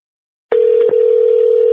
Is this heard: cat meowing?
no